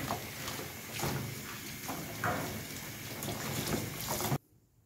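Rinsed cupping equipment left to drain, with water splashing and trickling in a steady, close, somewhat irregular wash that stops abruptly near the end.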